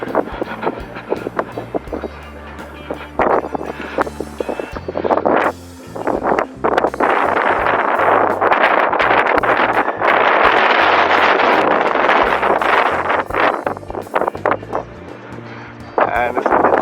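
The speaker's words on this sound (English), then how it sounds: "Extremely windy over here." Strong gusting wind buffets the microphone at the summit of Gunung Lawu, loud roaring bursts rising and falling irregularly, with people talking intermittently beneath and between the gusts.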